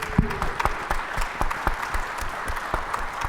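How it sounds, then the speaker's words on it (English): An audience at a security summit gives a quick round of applause for the host: steady, fairly close clapping from a modest crowd, with no talk over it. "Quick round of applause."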